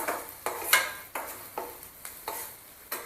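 Onion and green chili sauté in hot oil in a pan for a curd tadka, a soft sizzle broken by regular stirring scrapes about every half second, close and without voices.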